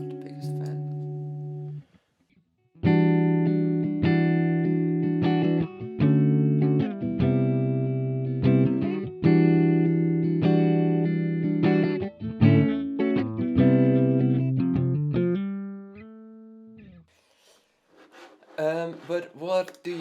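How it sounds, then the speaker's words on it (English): Clean electric guitar chords and melodic lines with a shimmering, wavering chorus tone, played in phrases with short pauses between them. "The chorus is on."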